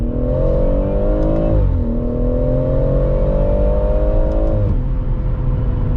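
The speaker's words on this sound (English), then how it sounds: "It has this kind of surging noise at a higher speed" A BMW M140i engine drones loudly and steadily at speed, its pitch rising and dipping as it surges, heard from inside the vehicle.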